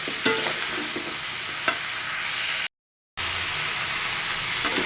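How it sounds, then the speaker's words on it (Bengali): Bottle gourd curry with ground cumin fries and is stirred in a pan, a steady close sizzle with occasional spatula scrapes, broken briefly by a moment of total silence. "ভালো মতো নাড়াচাড়া করে মিশাই নেব হাতে একটু জিরে গুঁড়ি দিয়ে দিলাম দিয়ে এটা ভালো মতো এখন কষায় নিতে হবে"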